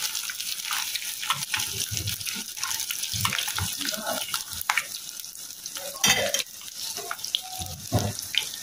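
Food fries crisply in hot oil in a home kitchen, making a loud, continuous sizzle with stirring clatters and splashy crackles close by, and a voice is faintly heard at times.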